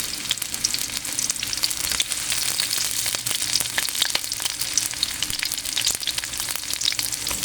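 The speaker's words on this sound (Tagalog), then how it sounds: "Next natin yung ating sibuyas, syempre. Madali lang to, guys, iluto. Gisa-gisa lang." Chopped onions sauté in a hot pan for stir-fried bitter gourd with egg, a steady loud sizzle with scattered crackles and pops running unbroken throughout, no voices.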